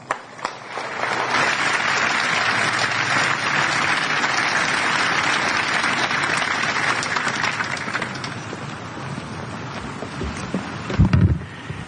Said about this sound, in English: please join me in a warm round of applause for Lieutenant General retired House